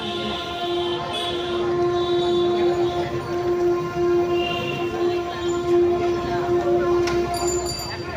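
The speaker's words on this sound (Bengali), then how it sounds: "ওই পাশে ট্রেন যাচ্ছে" A train runs past beside a busy market, a steady rumble with sustained horn-like tones held through the whole stretch, mid-distance, under crowd murmur and voices.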